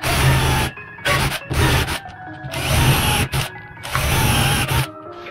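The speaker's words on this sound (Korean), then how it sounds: "장식품을 달 수 있도록 구멍을 내줍시다." Power drill boring holes in a wooden Christmas ornament: several loud, close bursts of whining drilling separated by short pauses, no talking.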